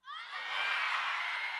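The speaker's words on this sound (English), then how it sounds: "you're going to scream others in their face" Audience in a room shouting a short phrase together in unison, a single loud sustained group yell lasting just over a second with no other sound.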